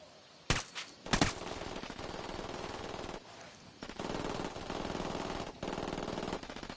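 Machine gun fire from the Ghost Recon Wildlands video game: sharp opening bursts followed by sustained rapid automatic fire that stops and restarts several times, loud and close with no talk.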